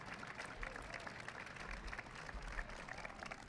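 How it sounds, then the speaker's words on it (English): Crowd applause at a governor's announcement event in Pittsburgh, faint and distant continuous clapping throughout the brief stretch. "A round of applause."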